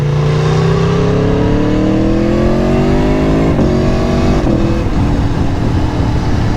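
An Aprilia Tuono motorcycle engine revs loud and close, a sustained roar whose pitch climbs steadily, then shifts and dips briefly before holding high.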